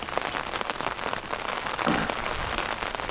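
Steady rain pattering on a surface in the Retezat Mountains while shepherds drive sheep uphill, a dense continuous hiss of drops close by with no voices.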